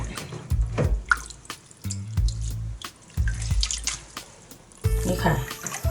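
Water runs from a tap and splashes while khanom jeen rice noodles are rinsed and squeezed by hand in a basin, gushing in bursts with drips and pauses between.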